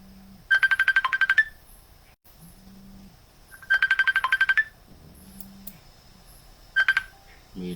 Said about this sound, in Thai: มีโทรศัพท์เข้ามาต้องขออภัย